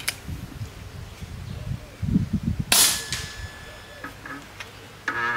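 An RTI Prophet II 5.5mm air rifle at a range gives a low clattering rattle after the shot, then a sharp crack and a ringing metallic tone that slowly fades, followed by further small clicks.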